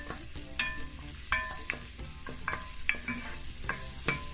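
Crushed garlic and a scallion stalk frying in a pan, a soft steady sizzle broken by several sharp utensil clinks and scrapes at irregular intervals, close by with no talking.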